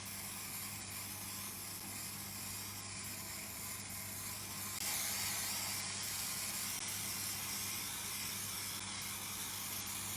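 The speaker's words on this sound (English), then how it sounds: "the House of Cake pump sprays are fantastic" Gold edible glitter pump spray misting onto a Christmas cake, a steady faint hiss running continuously with a slight swell partway through, no voices.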